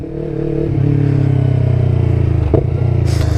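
A 2019 Yamaha YZF-R3 motorcycle engine rises and holds a loud, steady rev under light throttle, close up, with a brief clatter and a hiss near the end.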